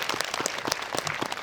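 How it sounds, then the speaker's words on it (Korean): An audience applauds at a film talk event for the Korean movie "Kingmaker," with steady, dense hand-clapping from a crowd, heard fairly faint and without talk. "박수 부탁드리고요."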